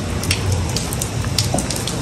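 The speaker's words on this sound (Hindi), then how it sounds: "बिलाखिर बारिश शुरू हो गई है।" Rain beginning to fall, a steady soft hiss of drops with a low rumbling background throughout and no voices.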